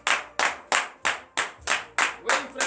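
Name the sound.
audience clapping in praise at morning prayer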